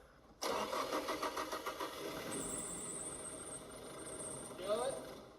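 A car engine cranks and catches suddenly, then settles into an uneven, lumpy idle from a misfiring cylinder, with a thin whine rising partway through and a brief squeal near the end.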